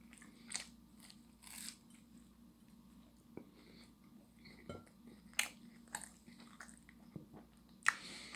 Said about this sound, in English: You hear the noise, I'm eating food.